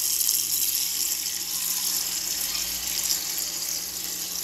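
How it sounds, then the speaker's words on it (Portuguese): Water pours steadily into a cooking pot in a home kitchen while preparing a simple chayote salad, a loud, continuous hissing splash with no pauses. "Aí vou colocar aqui a água."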